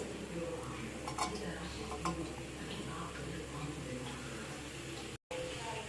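Fried vegetables get stirred into fried rice in a pan with scattered clinks and scrapes of a utensil against metal, moderately close, while a person talks over the stirring.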